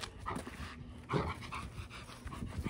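A dog panting close by in quick rhythmic breaths, with a few soft whimpery sounds mixed in.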